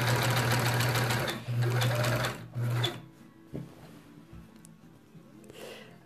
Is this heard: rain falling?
no